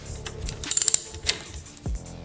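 Ratchet wrench loosening a nut on a Harley-Davidson Softail in a garage, a quick run of sharp close clicks followed by a few more scattered clicks and clunks.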